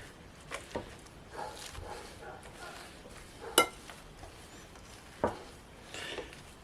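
Hot potatoes being mashed with cold butter in a bowl, giving soft squishing presses and a few sharp clinks of the masher against the dish, close and quiet with irregular strokes.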